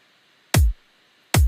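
Two punchy electronic drum hits from a soloed kick and snare drum rack in Ableton, each a sharp loud attack with a booming low tail, separated by near silence.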